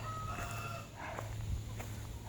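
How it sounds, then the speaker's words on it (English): A Light Sussex rooster crows from a moderate distance over a steady low hum, with a few clucking sounds around it. "Red rooster is doing well. He's a noisy boy."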